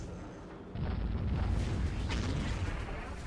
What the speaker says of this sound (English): it's just these quake cannons